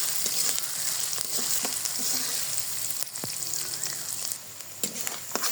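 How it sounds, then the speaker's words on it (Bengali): Onions, green chilies and spices fry in a pan with a steady, fairly loud sizzle, broken by a few light stirring scrapes and taps near the end. "সবগুলো মশলা যাতে একটু নরম হয়ে আসে এজন্য একটু হালকা করে ভেজে নিচ্ছি।"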